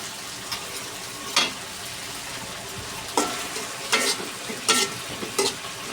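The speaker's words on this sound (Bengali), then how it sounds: "পেঁয়াজটা তো ভাজা হয়ে গেছে" Onion frying in a pan for a meat curry, with a steady low sizzle under scattered spoon scrapes and clinks from stirring, a few sharper strokes standing out.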